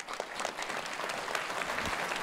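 A seated audience at an evening medical program gives a short, even round of applause. Dense, steady clapping heard from within the room, fairly soft overall.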